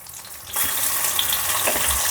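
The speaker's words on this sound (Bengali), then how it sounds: "ভাজা হচ্ছে," Fish fry in a pan, starting quietly and then breaking into a steady, close, crackling sizzle that holds to the end without any talk.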